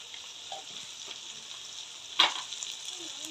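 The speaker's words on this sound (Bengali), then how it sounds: "দিয়ে মশলাটাকে কষাবো বন্ধুরা।" Cumin and chili powder sauté in a hot pan, a steady broadband sizzle with a brief sharper crackle and spoon scrape partway through, moderately quiet with no talking.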